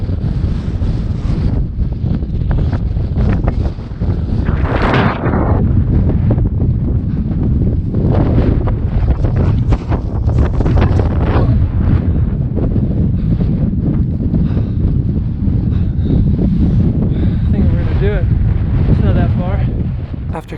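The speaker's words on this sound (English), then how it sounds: "But first, some of the strongest wind I'd ever experienced." Strong wind gusts batter the microphone on a high Colorado mountain pass, a loud continuous roar with buffeting bursts throughout and no other sounds standing out.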